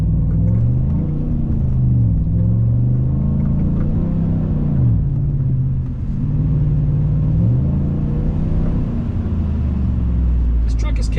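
A truck accelerates on an icy road, its engine rumbling and rising and falling in pitch as the ABS engages repeatedly, with someone talking over it throughout.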